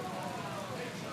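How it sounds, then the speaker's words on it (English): Heavy downpour on an outdoor high school baseball field gives a steady, dense hiss of rain, loud and unbroken through a very short stretch. "It is coming down a pouring out there. Raining buckets."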